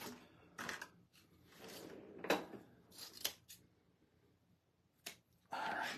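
Scissors snip through ribbon while a bow tassel is being made, giving a few quiet, close, crisp cuts and clicks separated by short pauses.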